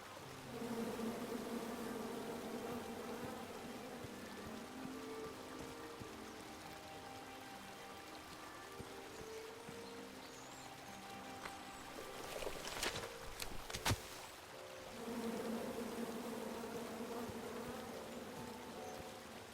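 A swarm of angry bees in the King's Quest video game gives a steady, droning buzz that fades midway and swells back near the end, with a few sharp clicks in between.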